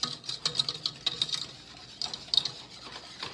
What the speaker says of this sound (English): So you just want to whisk this in until it's nice and combined.